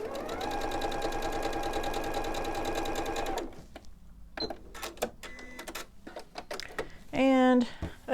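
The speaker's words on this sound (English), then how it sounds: "I'm going to sew on the line on this one and this one" Sewing machine stitching a quilted springtime table runner, running in a steady fast rhythmic whir for about three seconds before stopping, followed by quieter handling clicks and a short electronic beep-like tone.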